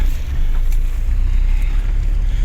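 A 2000 Renault Kangoo with a 1.9 diesel engine drives along, giving a steady, loud low rumble of engine and road noise with wind buffeting throughout and no talking.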